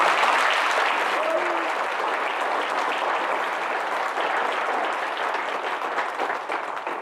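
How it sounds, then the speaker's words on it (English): A large crowd at a National Honor Society induction applauds steadily and loudly, the clapping sustained throughout with little change in intensity. "Let's give a big round of applause to the educators who have been honored this evening"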